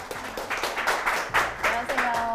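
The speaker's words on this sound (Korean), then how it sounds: "큰 박수로 모셔볼게요" Brief, fairly quiet burst of audience applause welcoming a lecturer onto a talk-show stage, with scattered claps rising and falling under a few voices.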